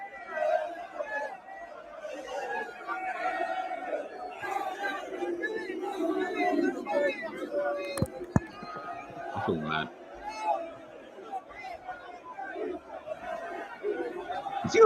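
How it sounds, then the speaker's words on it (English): Manchester United fans crowd around the Liverpool team bus, shouting and chanting in a dense, continuous roar of voices with sharp yells rising out of it. Someone speaks over the noise. "The United fans throwing things at the bus."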